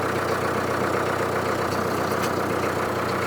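A Solis 5724 tractor engine running, a steady close diesel idle with an even low throbbing knock and no break in the sound.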